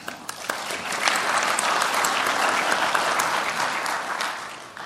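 Sustained, dense applause from a conference audience at a general session on public policy, swelling after the first second into a full, steady roar of clapping that tapers slightly near the end, with faint voices mixed in.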